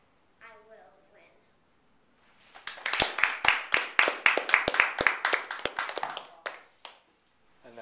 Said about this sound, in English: Could I give them one more round of applause?